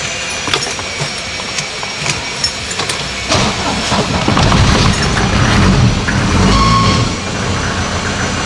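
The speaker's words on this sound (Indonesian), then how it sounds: "Dan diesel kan berisik guys nih." A Mercedes-Benz 240 D diesel engine runs nearby, a steady rough clatter that grows louder and closer midway, then settles back slightly.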